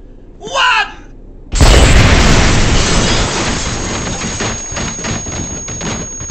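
A bomb planted by the Joker goes off in Batman: Arkham Asylum, a sudden loud blast that rolls into a long, rumbling roar and slowly decays over several seconds, with a brief voice heard just before it.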